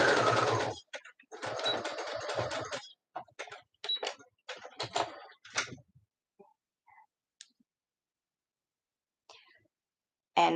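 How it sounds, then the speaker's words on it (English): A sewing machine stitches fabric pieces, right sides together, for a pink bunny beanie. Quick bursts of stitching come close up in the first few seconds, then only sparse small clicks and handling noises in near silence. "I'm sewing right sides together so that my seams will be on the wrong side sticking out"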